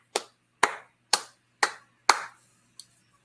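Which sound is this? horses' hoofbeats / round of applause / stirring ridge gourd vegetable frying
round of applause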